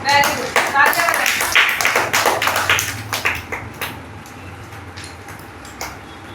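A class of children claps on cue, a loud patter of many small hands that thins out and trails off into scattered claps and quiet background chatter.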